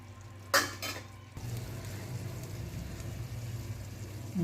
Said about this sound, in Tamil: ஆல்ரெடி வேக வச்சிருந்த பருப்பை வந்து அப்படியே மிக்ஸ் பண்ணிவிட்டு